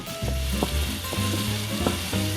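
Chopped onion sizzles steadily in hot Greek olive oil over very high heat, a loud close frying hiss with a few soft stirring knocks and no voices.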